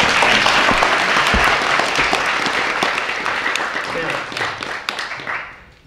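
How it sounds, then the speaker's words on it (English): Loud, dense applause fills a hall during an award ceremony at Teachers College, sustained clapping from a large audience that gradually tapers off over about six seconds. "Can we have another round of applause for our distinguished panelists"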